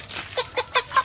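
A chicken being chased and caught in a village yard gives four quick, loud clucks in an even rhythm, close by and with no talk over them.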